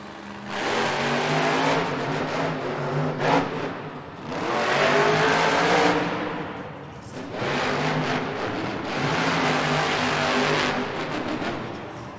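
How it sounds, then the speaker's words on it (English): Gravedigger, a black and green monster truck, roars loudly through repeated full-throttle revs in a Monster Jam racing event, surging and easing in waves over about twelve seconds with brief tire squeal. "As he came around that final turn, he really hit the throttle across the finish line."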